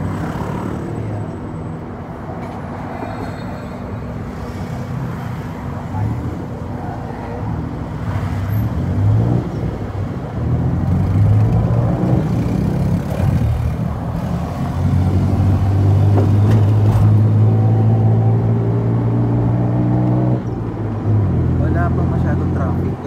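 Busy road traffic in the Pratunam area of Bangkok makes a steady roar of passing cars, buses and trucks, with engines revving and droning close by.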